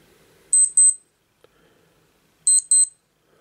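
Two short paired electronic beeps, an old-school wristwatch-style hourly chime set on a ZenWatch 2 Android Wear smartwatch, sounding twice, crisp and close in a quiet room.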